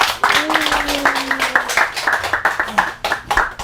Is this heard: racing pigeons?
no